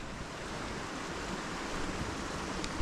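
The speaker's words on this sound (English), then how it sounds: "there's fast moving water coming down from up there, the top ridge" Fast water rushes steadily down a steep, mossy stream channel cut into a hillside, a loud continuous wash with no talk.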